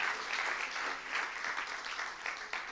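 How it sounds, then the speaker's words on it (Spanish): Church congregation applauding for a sustained stretch, a broad, even patter of many hands with slight swells, fairly faint and distant-sounding, with no voices above it. "Denle un aplauso nomás al Rey de Reyes."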